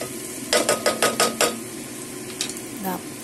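Clams and rice noodles stirred in a pan as they brown, six quick rhythmic scrapes of a utensil against the pan over a soft sizzle, then a couple more clinks and a scrape.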